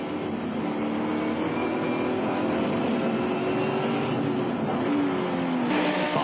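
GT race cars at full speed on the Zolder circuit in a 1999 FIA GT round. A continuous loud engine roar with several overlapping engine notes rises and falls as the cars pass close by.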